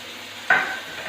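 Raw onion tumbles into a pan of tomatoes being cooked for dhaba-style masala bhindi, setting off a sudden loud sizzle that fades gradually over half a second, with no talking.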